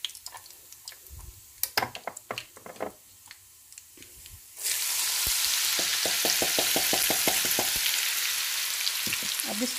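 Shredded garlic and onion hit a hot pan for a green bean and potato curry. After a few soft clinks and taps, a loud, steady sizzle bursts in and continues, with light stirring clicks.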